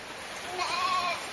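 A goat gives a single short, wavering bleat at moderate distance, heard over a soft background hiss during rainfall.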